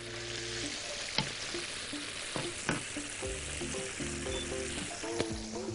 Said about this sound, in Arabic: وننزل، نقلب لحد ما تاخد اللون الذهبي